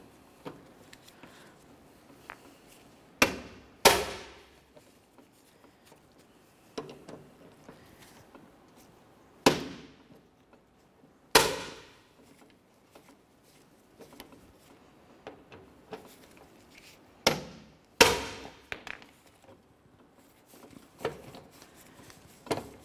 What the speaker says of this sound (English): you wanna go ahead and use a driver of some sort just to break it free